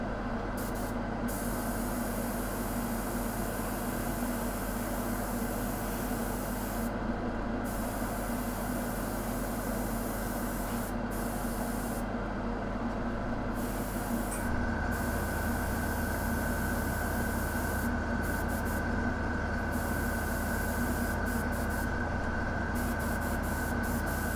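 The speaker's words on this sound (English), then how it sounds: "I'm going to airbrush directly from above" An airbrush sprays paint from directly above onto a Knight Armiger miniature, giving a steady, continuous hiss that runs the whole time with short breaks. The level stays moderate and even, and no one speaks.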